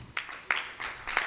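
An audience at a tech-enabled financial inclusion conference panel applauds, a short burst of scattered hand claps with a few sharper individual claps rising out of the sound.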